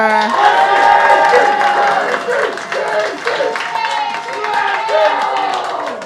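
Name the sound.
audience clapping for Casey Rocker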